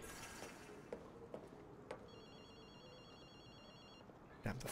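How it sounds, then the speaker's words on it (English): A telephone rings in Ghostwire Tokyo, a faint electronic tone pulsing for about two seconds in the middle, set among mechanical clicks and soft game ambience. "Damn, the phone's ringing."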